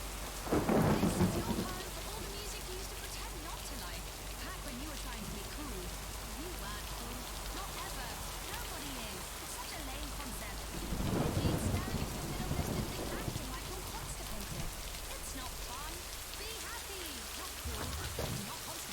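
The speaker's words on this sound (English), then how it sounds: "God, that rain's loud, right?" Heavy rain pours steadily in the GTA video game while loud rumbling thunderclaps break through near the start, again around the middle and once more at the end.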